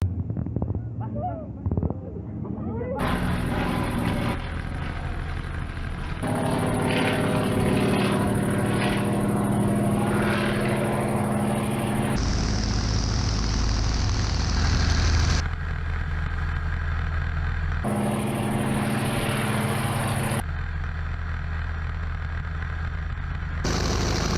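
A Yak-52 propeller aircraft engine drones steadily and loudly during a torque roll, its pitch and tone shifting in sections as the plane maneuvers, with wind rushing over the microphone.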